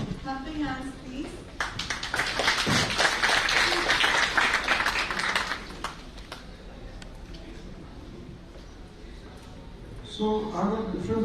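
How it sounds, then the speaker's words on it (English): An audience at an architecture festival claps hands, with a burst of scattered clapping that rises and then fades amid talking voices. "Clapping hands, please."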